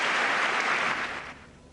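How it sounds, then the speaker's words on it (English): Audience applause during a Trump political address, a brief burst of dense clapping that fades out after about a second. "It, in fact, gained the most applause for the night"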